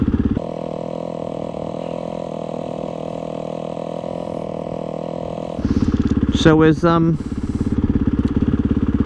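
A Honda CRF 450 motorcycle engine drones steadily while riding, then grows louder and harsher partway through. Someone talks briefly over the engine noise.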